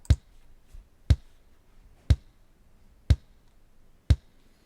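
A programmed kick drum thumps alone in a steady beat, five firm hits about one second apart with a faint ghost hit between the first two.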